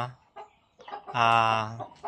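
Hybrid Jersey Giant chickens cluck nearby in a backyard shelter, ending in one drawn-out, tonal squawk, with faint voice-like sounds mixed in.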